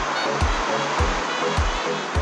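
Sea waves at a beach on Jomalig Island, a steady broadband wash with soft low thumps roughly every half second to second, continuous and fairly close, with no voices.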